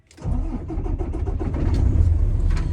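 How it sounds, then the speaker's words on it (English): A 2019 Peterbilt truck's engine cranks and catches, then settles into a loud, steady diesel rumble close by, with no talking. "Then you can go ahead and turn the key on, or turn the truck on."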